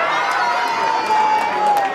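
Concert audience at a live show in Houston cheering and applauding, a dense roar with whoops and a sustained shouted tone, loud and continuous.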